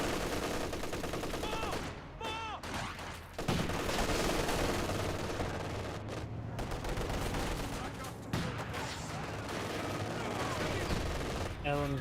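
Machine gun fire from an MG 42 in the Company of Heroes 2 video game, sustained bursts amid dense battle noise and explosions, continuous and loud throughout with no pauses.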